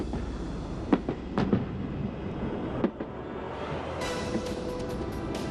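Fireworks go off before the New Frontier casino implosion in Las Vegas, a scattering of distant pops and bangs over a steady outdoor rumble, with a few sharper cracks standing out.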